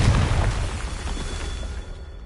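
A Confringo blasting spell goes off in a Harry Potter video game, a loud low boom at the start that rolls into a sustained rumbling blast and fades slightly toward the end.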